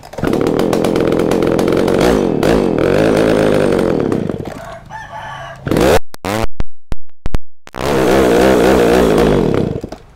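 A small 30cc chainsaw engine revving loudly, sputtering and cutting out briefly with a few pops as it runs low on fuel, then roaring back to a steady high rev.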